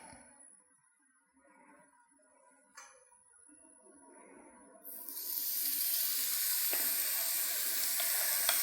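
Breakfast sausage for a thyroid-friendly homemade recipe hits a preheated pan and erupts into a loud, steady broadband sizzle halfway through, after quieter kitchen clatter and faint background sounds.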